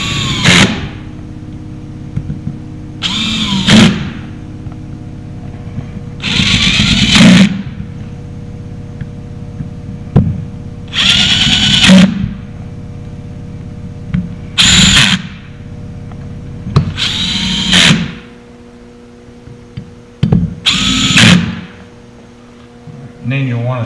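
A cordless drill drives screws during a Yamaha Viking sheave and slug kit install, whirring in loud repeated bursts with the clutch ratcheting as each screw seats, separated by quiet pauses.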